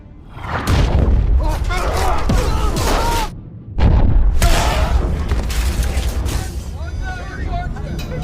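Two heavy booming mortar shell blasts from a film hit, the second after a short lull, followed by rumbling debris and voices speaking amid the din.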